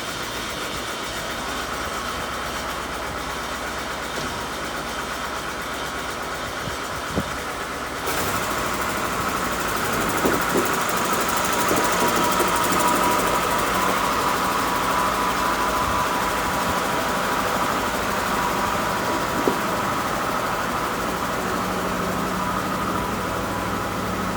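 An old Massey Ferguson 165 tractor engine runs nearby at a steady idle, then jumps to a louder, rougher level partway through and keeps chugging with occasional knocks and clatter.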